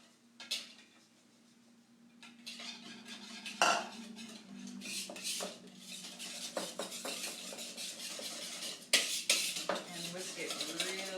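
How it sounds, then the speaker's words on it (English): Egg, yolk, black pepper and grated cheese for pasta carbonara are whisked in a bowl, giving a steady run of clinking, scraping strokes close by, with a few louder knocks. "And whisk it really well."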